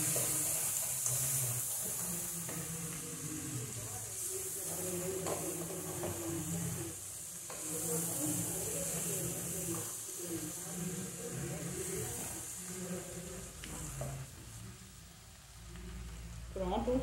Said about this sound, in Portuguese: Acrescentei o feijão. Agora é só mexer aqui pra misturar bem.